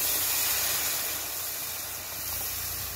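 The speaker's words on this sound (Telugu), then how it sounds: "నీళ్ళు పోసుకుంటున్నాను." Water poured into a hot pan of fish curry masala with paste, coriander and chili powder, giving a loud, steady steam hiss that runs throughout and eases slightly toward the end.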